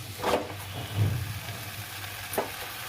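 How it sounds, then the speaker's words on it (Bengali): Potato and pumpkin fry with pumpkin greens in an oiled pan, giving a constant close sizzle with a low hum beneath and a few louder stirring bursts, no voices. "একটু ভাজা ভাজা হয়ে গেলে এবারে আমি শাকটা পুরোটা দিয়ে দেবো"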